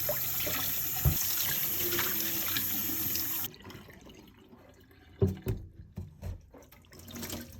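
Tap water runs steadily while rinsing dyed canvas shoes, then cuts off, leaving scattered drips, splashes and handling noises before the flow partly returns.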